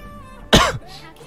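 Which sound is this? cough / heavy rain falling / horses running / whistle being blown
cough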